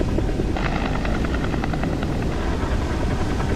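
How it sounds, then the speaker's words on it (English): Steady helicopter rotor thudding with a constant engine roar during a space capsule recovery at sea, loud and continuous throughout, no voices. "A second chopper rushes in to pick up Grissom as Lewis struggles with the capsule."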